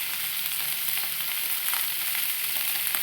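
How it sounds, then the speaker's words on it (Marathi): Spiced potato filling for bread pakoda sizzles and spits steadily in a hot pan while being stirred, a continuous close crackle with faint scraping and no talking. "आता आपण भाजी परतून घेऊया. चांगली अशी हलवून घ्यायची."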